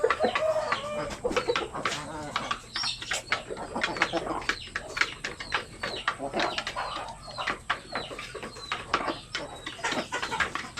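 Black Australorp and Basilan native chickens cluck and chatter continuously in a backyard flock, with overlapping calls, some wing flapping and someone talking over them throughout.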